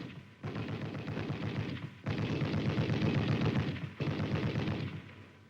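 An M73 7.62mm coaxial tank machine gun fires from the open bolt in three sustained automatic bursts, loud and close, each a dense rapid rattle separated by short pauses.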